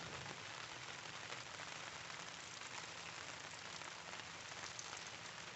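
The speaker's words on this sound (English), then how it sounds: "right after I got it up, the rain started." Rain patters steadily on a tarp strung up at a van-life campsite, a dense, even hiss that holds at the same level throughout with no voices.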